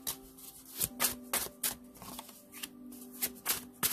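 Slick tarot cards being shuffled by hand, a run of sharp riffling bursts in an irregular rhythm, close and fairly quiet, with no talk.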